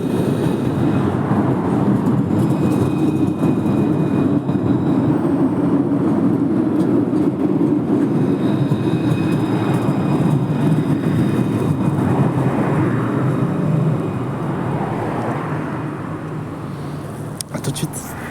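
Montpellier tram line 1 pulling into Port Marianne station: a steady rumbling rolling noise with faint tonal whines, holding level most of the time before fading toward the end, with a brief clatter at the close.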